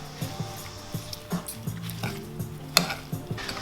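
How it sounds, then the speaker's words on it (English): Salad with cilantro is tossed gently in a bowl, producing a quick series of soft rhythmic swishes and light utensil clicks against the bowl, close and fairly quiet, with no talking. "So we're going to toss this very quickly, very gently, very lovingly."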